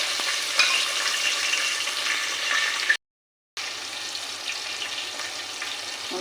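Dried red chillies, green chillies and tempering seeds sizzle and crackle steadily in hot oil, a dense close frying hiss with small pops, broken by a short silent gap before the sizzling resumes.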